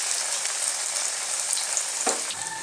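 Bora fritters frying in hot oil, giving a steady, close, bright sizzle with scattered crackles and one brief clunk near the end, with no voices.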